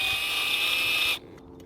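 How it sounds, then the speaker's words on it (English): A power drill bores into an inline figure skate frame, a steady high whine close by that cuts off abruptly, leaving faint handling noise. "Then you take your drill and nice and slow, make sure it stays straight."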